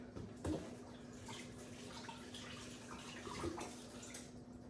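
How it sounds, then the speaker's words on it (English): Tomatoes are washed under a running kitchen tap as a steady, faint, even hiss of flowing water with a couple of soft knocks and splashes. "I'm gonna wash my tomatoes."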